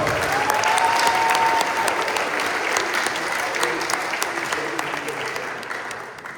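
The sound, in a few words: applause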